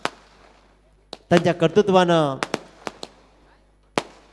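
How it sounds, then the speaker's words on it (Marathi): Firecrackers and fireworks burst to welcome a team at a local cricket tournament, sharp cracks scattered across the clip, some near and loud, as an announcer speaks over them. "खऱ्या अर्थानं सुस्वागतम करताना फटाक्यांची आतिषबाजी आपण पाहतोय."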